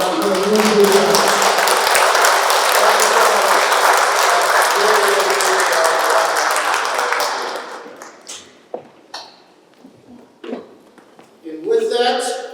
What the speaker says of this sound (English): let's give a round of applause for Dr. Arun Gupta